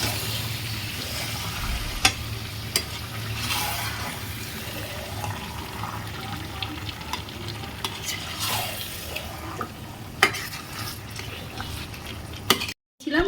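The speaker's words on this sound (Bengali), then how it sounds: "মাংসটা খুব ভালো করে কষবো।" Chicken pieces marinated in yogurt being stir-fried (kosha) in a pan with almost no water, giving a steady stirring scrape and soft sizzle throughout, with a brief dropout near the end.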